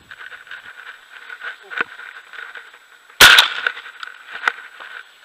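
A single loud shotgun blast rings out during an Idaho Eurasian dove hunt, sharp and close, amid faint background noise and light movement.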